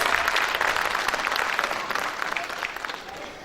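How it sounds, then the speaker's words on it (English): Conference audience at a national tax conference in Jaipur applauds steadily to welcome the chairman to the dais, a dense, sustained round of clapping that tapers slightly toward the end. "everyone to request to give a big round of applause to welcome sir on the dais"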